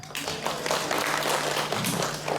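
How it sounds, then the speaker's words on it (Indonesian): Audience clapping in a school parenting session, a steady patter of hands filling the room for a couple of seconds, with a low murmur of voices underneath. "Tepuk tangan"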